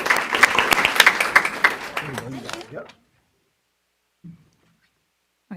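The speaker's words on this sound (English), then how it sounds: "Round of applause for them as well." Applause from parents and supporters at a school board of education meeting, a dense burst of clapping for about three seconds that stops abruptly, followed by near silence with a couple of faint thumps.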